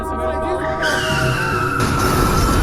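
A car accelerates hard and skids through a turn, its loud engine roar mixed with tire squeal and tonal whine close to the listener, while people talk over the noise.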